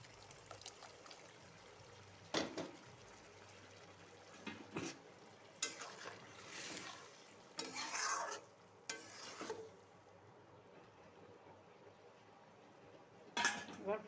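Water is added to ghugni cooking in a pan and stirred in, making a low simmering sizzle broken by several scraping stirs and clinks of a spoon against the pan.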